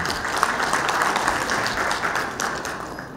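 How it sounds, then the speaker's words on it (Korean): Audience applause for an award recipient at a Lions Club anniversary ceremony in Masan, steady broadband clapping from a crowd filling the whole stretch without talk. "수상하신 분께 큰 박수 부탁드립니다."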